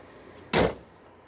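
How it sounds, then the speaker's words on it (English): A Mercedes E350 Sport (W211) hood slams shut in a single loud, broadband thump, close by and brief, then fades quickly with no one talking. "Now we'll shut the hood."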